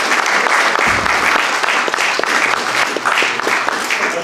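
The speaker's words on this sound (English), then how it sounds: "I think that deserves a round of applause." An audience at a Q&A for a drug addiction charity's film claps steadily in a loud, sustained round of applause close by, with no voices over it.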